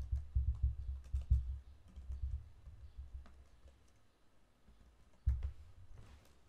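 A computer keyboard clatters as a website address is typed into the MS-DOS command prompt. A quick burst of keystrokes is followed by a pause, then a few more presses, close and fairly quiet.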